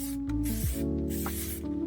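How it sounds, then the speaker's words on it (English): Clear coat is sprayed from a can onto the bumper of a 2008 Cadillac CTS, a close hissing spray in several short bursts and pauses, with a rattling tone between them. "are we spraying clear yet?"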